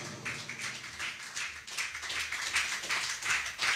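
A church congregation applauding during a French-language sermon, steady dense clapping from many hands throughout, moderately loud and alone without speech.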